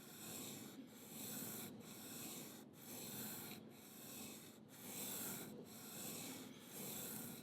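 A knife blade scrapes back and forth across a sharpening stone in steady, even strokes about once a second, a close, soft, hissing rasp with brief pauses at each turn and no talk.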